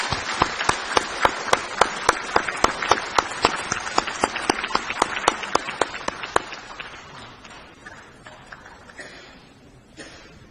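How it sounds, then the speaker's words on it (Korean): Legislators applaud in the National Assembly chamber to welcome a visiting parliamentary delegation: a brisk round of clapping with some sharp, distinct claps standing out, loud at first and then fading over about ten seconds. "의원님들께서는 박수로 환영해 주시기 바랍니다."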